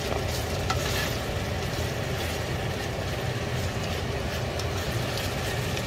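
Sauce of sweet bean paste and chili bean paste fries in a pan with a steady, continuous sizzle, with occasional faint stirring scrapes and no voices.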